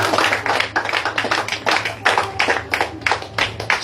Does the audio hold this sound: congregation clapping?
yes